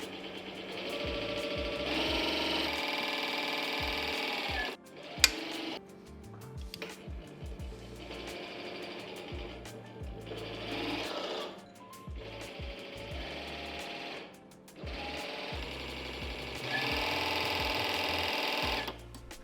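A homemade hydraulic exoskeleton arm driven by joystick, its pump and actuators whirring in repeated mechanical bursts of a few seconds each, separated by brief pauses and small clicks.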